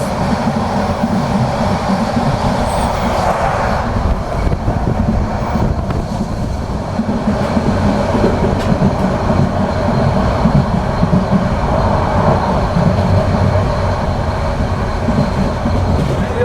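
The Intercity Subarna Express train running on rails in Bangladesh, heard from on board as a loud, continuous low rumble with steady rolling wheel noise and faint clatter throughout.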